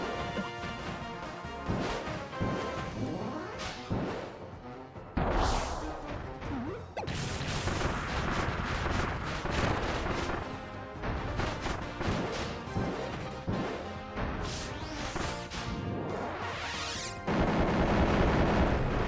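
Repeated explosive crashes and smashing impacts from a boss's bomb attacks in Kirby's Return to Dream Land, loud and dense over busy game music, with whooshes between the blasts.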